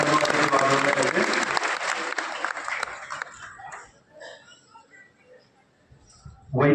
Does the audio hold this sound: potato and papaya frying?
no